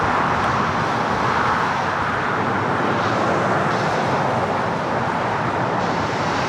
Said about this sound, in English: This is British Airways 282 Speedbird 8 Delta Sierra Heavy taking off to London Heathrow on a 777-300